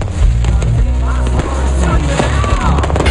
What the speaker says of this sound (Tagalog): Nagtapos ang selebrasyon sa isang magarbong fireworks display sa gitna ng dagat.